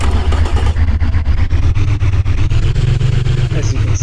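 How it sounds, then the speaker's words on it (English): A V16 engine in the Automation game fires up and runs, a loud close rumbling drone with steady rapid pulsing that holds throughout. "as you can see, this is the engine firing up."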